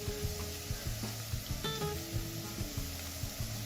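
Pilau masala spice frying in a pan with garlic and onions, giving a steady close sizzle with soft stirring scrapes and a few light clinks throughout.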